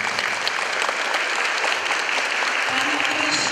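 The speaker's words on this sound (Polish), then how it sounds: "Wielkie brawa dla nich." Warm, steady applause fills a hall as guests are welcomed at a Polish teachers' celebration, dense and continuous throughout, with a faint low hum entering near the end.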